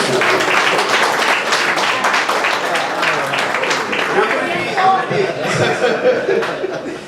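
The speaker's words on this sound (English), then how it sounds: "We're going to give that a round of applause." A crowd at a Dallas breakfast gathering applauds loudly with sustained clapping, scattered chuckles and murmured voices mixed in, fading slightly toward the end.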